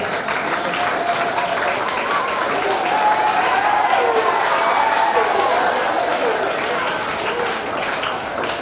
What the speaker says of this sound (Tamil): மாணவர்களே உங்கள் எங்கள் ஆசிரியருக்கு ஒரு நல்ல ஒரு கரகோஷத்தை கொடுக்குமாறு கேட்டுக்கொள்கிறேன்